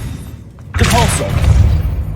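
A Repulsor spell strikes in the Hogwarts Legacy game with a sudden thudding burst, followed by a rumbling, crackling tail. Voices and battle noise are mixed in.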